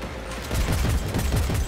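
Rapid pistol fire in Cyberpunk 2077, a quick, loud string of close, sharp shots firing almost back to back over a second and a half.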